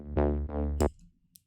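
Two short, buzzy future house bass synth notes with effects, followed by a brief bright stab and a faint click, up close with no voices.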